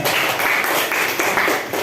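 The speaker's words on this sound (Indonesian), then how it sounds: "Oke, tepuk tangan semuanya." Meeting participants applauding together indoors, a close, dense wash of many hands clapping at once, loud and sustained with slight surges, no voices.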